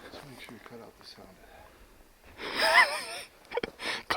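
Loud, heavy breathing from a hunter climbing a mountain in the New Mexico woods while elk hunting, with a strong burst of rasping breaths near the end after a stretch of quiet talking.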